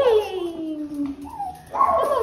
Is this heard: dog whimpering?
yes